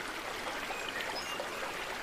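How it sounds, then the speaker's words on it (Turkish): Goncu Dere, also known as Bastana Çayı, a creek near İslamköy in Erzincan running muddy and swollen after heavy rain, rushes in a steady close wash of flowing water with no voices. "şu anda görmüş olduğunuz derenin adı Goncu Dere."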